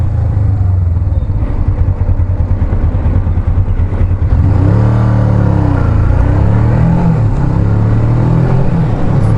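A 2002 Suzuki GS500 motorcycle being ridden, with a steady close engine drone and wind roar that climbs and surges in revs about halfway through.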